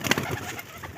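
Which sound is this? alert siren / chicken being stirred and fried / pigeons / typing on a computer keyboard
pigeons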